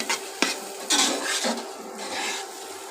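A spoon stirs goat meat cooking in ground spice paste in a pot, making a few scraping and clinking strokes against the metal with a soft sizzle between them.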